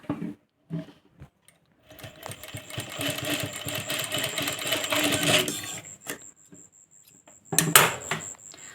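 Sewing machine stitching tacks across the point of a katori blouse piece, a steady mechanical whir running for several seconds, pausing, then a short closing burst.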